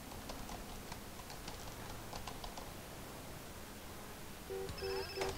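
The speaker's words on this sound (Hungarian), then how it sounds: "És azt hiszem most telefon jön." Mobile phone ringing in GTA San Andreas, a faint electronic ringtone entering near the end over steady game background noise and light clicking.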